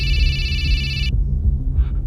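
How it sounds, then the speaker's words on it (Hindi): A telephone rings in the middle of the night, around 3 a.m., with a bright electronic trill that lasts about a second and then cuts off, leaving a low background hum. "शैलेंद्र ताऊ जी का अचानक से उस रात को 3 बजे फोन आया।"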